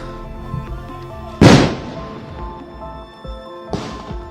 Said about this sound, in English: He's shooting directly at me.